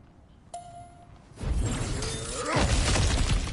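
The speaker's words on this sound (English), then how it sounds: "back to smashing through things for fun and profit" Objects smashing in God of War Ragnarok, a ringing metallic ping followed by a heavy crash and crumbling shatter of breaking debris, loud and close, building into a sustained rumbling clatter.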